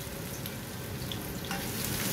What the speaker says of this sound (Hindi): इसे मैं हल्की सी छोटी छोटी फ्राई करूँगी, हल्की सी फ्राई करेंगे हम